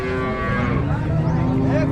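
Holstein Friesian cows at the Sangola cattle market, one mooing in a loud, close, drawn-out low bellow over steady market background noise.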